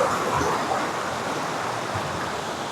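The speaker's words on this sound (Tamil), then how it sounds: "தண்ணி போகுது" Water rushing down a small waterfall stream on a farm trek, a steady broadband roar of flowing water, close and constant throughout, with no voices.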